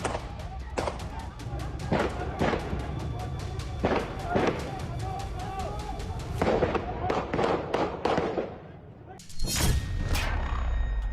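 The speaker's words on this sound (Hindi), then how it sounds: "पीओके में दनादन गोलियां चल रही हैं।" Sharp cracks of gunfire ring out during street protests in Pakistan-administered Kashmir. Repeated loud reports, some in quick pairs, cut through a constant noisy crowd din.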